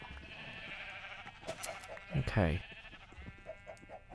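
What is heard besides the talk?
sheep bleating in Minecraft video game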